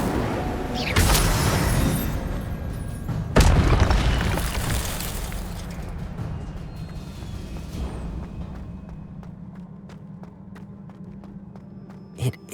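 An Incendio fire spell is cast in Hogwarts Legacy, giving a loud whooshing burst with a sharp boom near the start, a second blast a few seconds later, then a fading rumble.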